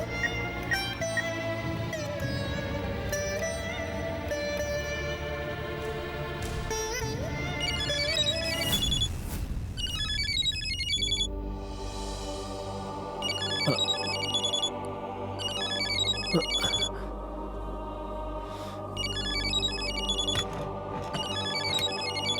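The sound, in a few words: telephone ringing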